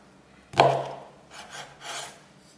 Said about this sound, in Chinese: 接下来我们准备5根小火腿肠，从中间一分2半